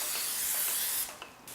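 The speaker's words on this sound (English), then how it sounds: "We can pour our next batch after we spray the iron." A steady hiss of cooking spray onto a waffle iron lasts about a second, then cuts off, followed by a faint click and quiet.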